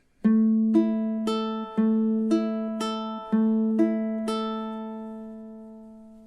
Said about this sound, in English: And measures 7 and 8 together should sound something like this.